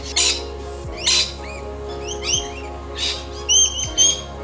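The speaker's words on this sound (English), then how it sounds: "Birds everywhere." Several birds chirp and whistle close by in bright, repeated calls. A low steady hum runs underneath.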